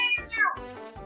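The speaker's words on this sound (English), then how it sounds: "The cat started to meow." A cat gives a single drawn-out meow that bends downward in pitch, close and clear, with no other sound around it.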